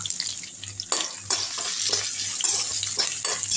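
Curry leaves, crushed ginger and garlic are sautéed in oil in a pan, with a spoon scraping through in repeated quick strokes over a close, crackling sizzle.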